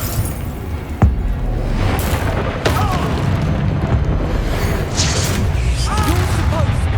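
Booming magical blast explosions from the Confringo spell in the Hogwarts Legacy video game: a sharp burst near the start, another shortly after, then rumbling impact noise under game voices and effects.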